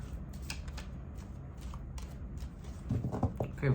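Cards are shuffled in a few quick riffles, soft papery flutters growing louder toward the end, close by with faint room noise and no talk.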